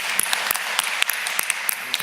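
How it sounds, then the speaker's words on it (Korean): A church congregation claps for its choir after a hymn at a Sunday service, a moderate, fairly steady patter of hands with a few sharper individual claps standing out, heard alone without talk. "우리 성가대 수고하셨는데 우리 박수 한번 하겠습니다."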